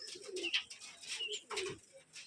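Rajshahi Giribaj pigeons in a farm loft give soft, close cooing calls in a few short bursts, with light chirps and a quiet background and no talking.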